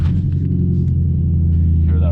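A 2012 BMW M3's 420-horsepower V8 idling close by, a deep steady rumble with heavy low-end throb and a faint higher hiss on top, continuous and loud.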